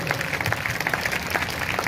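A church congregation claps during a Hindi sermon, a dense patter of many hands, steady and fairly close, with no speech over it.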